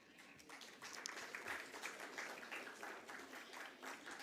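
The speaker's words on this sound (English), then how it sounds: "with a huge round of applause" A crowd applauds at a company's stock listing ceremony, with dense, fairly quiet clapping that holds steady for a few seconds, sounding somewhat distant.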